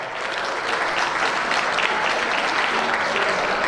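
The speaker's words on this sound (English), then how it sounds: "Please give them a round of applause." Audience applause at the 32nd Annual APPAC Unity Gala 2017, a sustained, even roar of many people clapping that swells slightly and holds steady throughout, without speech over it.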